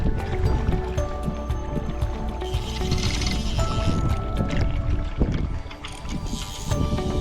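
Canoe paddling on a lake while fly fishing, with steady water sloshing and splashing close by and wind noise throughout, continuous over the whole stretch.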